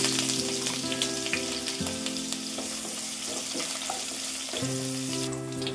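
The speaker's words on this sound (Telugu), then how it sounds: "పన్నీర్ వేసుకుందామా ఫ్రై చేయడానికి।" Paneer frying in oil with ghee gives a loud, continuous sizzle with spoon stirring and scraping, steady from start to finish without any talking.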